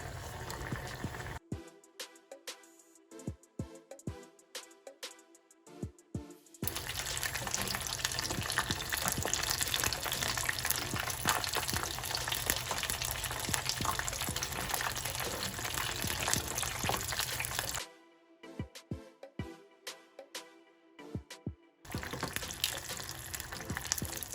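Egg rolls deep frying in hot oil in a small pan, a steady loud bubbling sizzle that surges for a long stretch, broken by quieter gaps with sharp crackles and pops.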